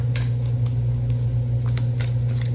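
Oracle cards being shuffled by hand, several quick crisp riffles and flicks over a steady low electrical hum, close up.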